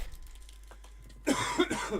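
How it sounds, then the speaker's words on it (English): Near silence, then a sudden burst of harsh, close coughing, a couple of rough hacks in quick succession. "This cough, mate, gives me a headache"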